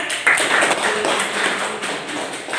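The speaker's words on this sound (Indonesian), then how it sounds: "Kita beri tepuk tangan" A classroom of students claps together in applause, a dense, steady patter of many hands that holds evenly from start to finish at close range.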